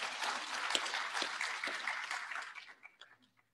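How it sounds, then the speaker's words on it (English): An audience at an International Women's Day celebration gives a short burst of clapping that fades out into a few scattered claps. "give her a clap."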